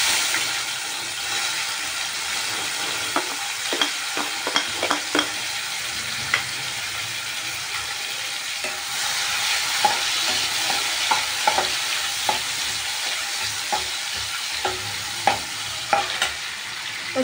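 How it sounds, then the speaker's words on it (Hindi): Tomatoes frying in a pan with cumin, stirred by hand; a steady broadband sizzle runs throughout, with scattered scraping stir clicks and spoon knocks coming through close and clear, no talking. "अब हम इसमें टमाटर डालेंगे।"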